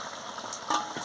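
Spices, ground cumin, coriander and garam masala, are stirred into a jackfruit curry in a hot pan, giving a soft, steady sizzle with brief scraping stir strokes and a slightly louder burst near the end.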